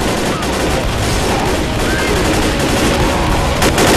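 Rapid gunfire from a mounted turret in the zombie shooter Left 4 Dead on the Docks level, a dense, continuous loud burst of shots filling the whole stretch with battle noise behind it.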